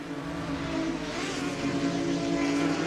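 Race car engines drone and rev steadily as cars battle for position in the GT4 America Virtual racing game at Road America, a continuous close mechanical roar that gradually swells louder.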